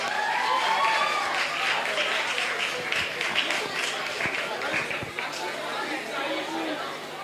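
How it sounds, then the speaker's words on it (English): A crowd at a school Year 11 prize giving ceremony gives a round of applause for an award presenter, steady clapping mixed with loud chatter and voices throughout. "Can we have another round of applause?"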